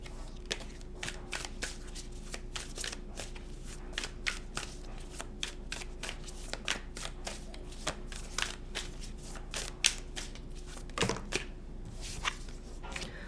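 Tarot cards are shuffled and drawn close by, a long run of quick crisp riffling snaps and soft flicks at a faint level, with no voice.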